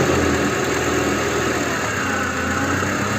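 A Mercedes A-Class engine idling with a steady, fairly loud mechanical hum and vibration that holds constant throughout.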